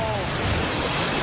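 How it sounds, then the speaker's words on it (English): A waterfall roars as a steady, broad wash of rushing water, loud and unbroken throughout the brief moment. "it'll be hidden behind the waterfall"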